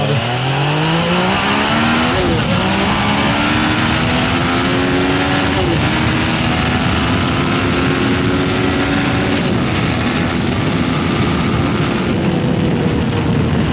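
A Yamaha Tracer 900 motorcycle accelerates hard on a road, its engine note climbing steadily through the gears. The close, loud roar runs continuously and drops briefly at each shift.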